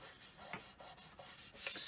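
A rolled clay sheet for a pendant being burnished by hand, heard as soft, close rubbing strokes in a quick repeated rhythm, brightening into a brisker scrape at the end.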